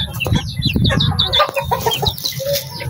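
Chickens and young chicks cluck and peep together on a farm, a steady cluster of close, overlapping calls with no talking.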